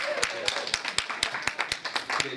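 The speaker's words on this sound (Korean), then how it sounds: "우리 박수로 시작을 하겠습니다" Clapping opens a Korean women's business association year-end party, heard as distinct, evenly spaced claps in a regular rhythm, moderately close, with a voice speaking over them.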